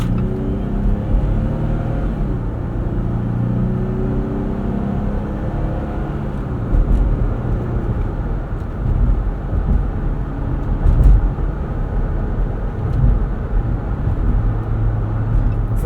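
Inside a 2024 Jeep Gladiator Mojave X driving over a bumpy road, a continuous low engine and road rumble fills the cabin, with occasional thumps and jolts from the uneven surface.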